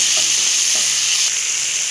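Tomatoes frying with onions in a pan: a steady, bright sizzle fills the whole stretch, with a few faint stirring scrapes underneath and no voices.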